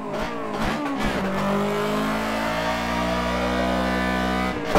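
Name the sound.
1.8-litre car engine revving on Tsukuba circuit, racing video game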